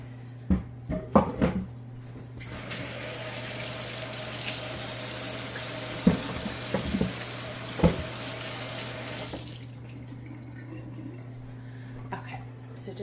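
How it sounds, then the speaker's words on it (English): Tap water runs steadily into a kitchen sink for several seconds while hands are washed beneath it, with a constant rushing hiss, a low hum underneath and a few clicks and knocks around it. "So just had to wash my hands"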